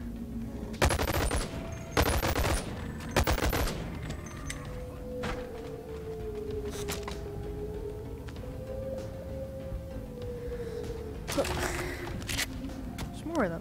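A gun fired in the VR game Boneworks: a few sharp, loud shots spaced about a second apart, later a couple more isolated bangs, with a steady background hum and tone between them and a voice briefly talking.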